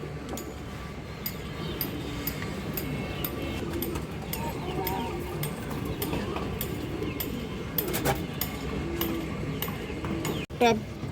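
Pigeons, including a green-throated female, coo softly amid a busy bird market, with low murmuring calls under steady crowd noise and people talking, a few clicks near the end.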